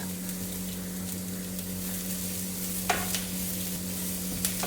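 Onion, garlic, ginger and potato frying together for a vegetable korma masala, a steady close sizzle with occasional scraping stirs cutting through.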